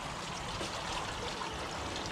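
A garden pond water feature trickles and splashes steadily at close range, a soft continuous wash of falling water with no voices over it.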